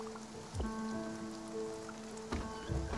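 Rain patters steadily in the Spiritfarer video game, a soft continuous hiss of drops on surfaces beneath gentle musical tones, with a couple of low splashes.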